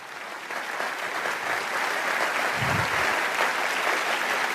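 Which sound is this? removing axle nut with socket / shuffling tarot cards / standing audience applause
standing audience applause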